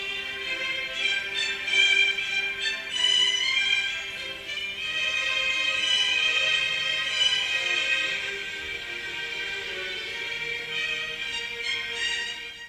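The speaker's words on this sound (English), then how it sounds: "Peter is represented by the string section, and his theme sounds like this." A string section plays Peter's theme from Peter and the Wolf, a sustained, lyrical melody with no speech over it.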